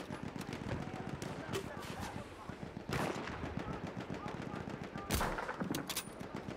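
Machine-gun and rifle fire rattle through a Battle To Death battlefield game, with rapid bursts and sharp louder shots punctuating a steady barrage of combat noise.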